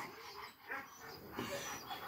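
A dog that has bitten people whimpers and yips in short bursts while being handled into a cage, close by with some rustling.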